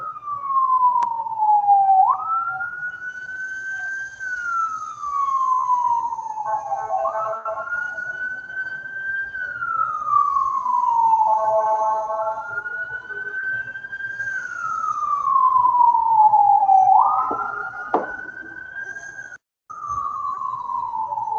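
An ambulance siren wails as it passes, in a steady repeating rise-and-fall cycle, loud and continuous for the whole stretch, with no talking.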